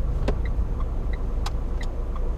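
A car eases to a gentle stop at the end of a road under braking, with a steady low engine and road rumble inside the cabin and a few faint ticks above it.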